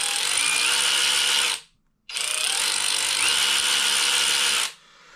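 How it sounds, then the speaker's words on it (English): A Kobalt 24V Max brushless 3/8-inch cordless ratchet wrench runs at slow speed backing out bolts, a steady loud motor whine in two long bursts separated by a short pause, with no talking. "this is slowly removing bolts"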